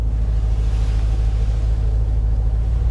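A Mercedes with a full gloss carbon-fibre interior pulls away and accelerates, its engine a loud, steady, low rumble that holds continuously and close throughout, with no talking.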